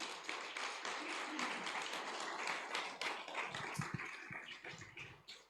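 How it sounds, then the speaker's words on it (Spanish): A church congregation claps during a sermon, a faint, dense patter of applause that builds and then thins out toward the end, heard at a distance without clear talk. "den un aplauso al Rey de Gloria"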